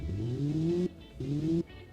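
A car engine in the Automation video game revs twice in quick succession, each rise in pitch cut off sharply, fairly quiet and steady with no voices over it.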